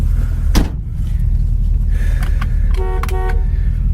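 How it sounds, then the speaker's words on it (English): A 1969 Chevrolet Camaro's horn honks in two short bursts, a faint one then a sharper pair, over steady low road or engine rumble. "The horn works."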